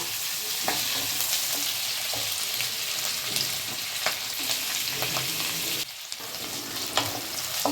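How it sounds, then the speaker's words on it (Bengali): Onions, capsicum and green chillies frying in a pan for chilli chicken, a dense continuous sizzle with scraping stirs throughout, close and loud with no talking. "এবার বাকি রইল কাঁচা লঙ্কা, সেগুলোও দিয়ে দিলাম। দিয়ে আমি একটু হালকা লাল হওয়া পর্যন্ত ভাজবো"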